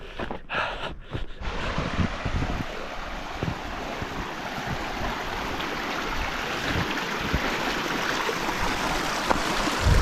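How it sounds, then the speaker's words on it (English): A mountain stream rushes steadily nearby on a trail in Tongariro, a constant broad wash of flowing water with some wind buffeting at the start. "Coming alongside the stream here."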